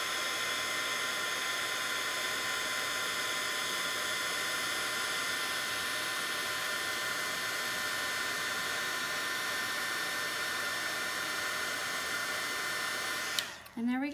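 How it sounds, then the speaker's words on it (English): A heat tool blows steadily on embossing powder while heat-setting a rose heart card, a constant, close hiss-like whir held for about thirteen seconds before it clicks off abruptly. "And then I'm going to go ahead and heat set."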